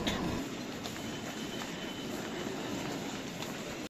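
A Delhi Airport Express metro train running toward Dwarka Sector 25, heard from inside the car as a steady, loud rumble of wheels and rail noise that continues unbroken, with no voices.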